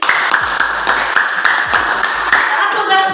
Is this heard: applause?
yes